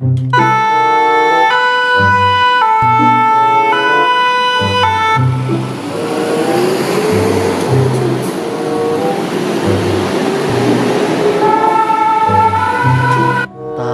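A loud electronic toy fire truck siren wails in a repeating two-tone pattern, with a stretch of noisy crackle in the middle before the tones return.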